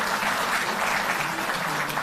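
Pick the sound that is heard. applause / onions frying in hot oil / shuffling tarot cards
applause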